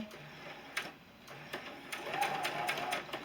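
A sewing machine runs in short bursts, stitching quilt block fabric for a beginner sampler quilt, with light mechanical clicks and a steady whir that builds toward the end, close by and fairly quiet.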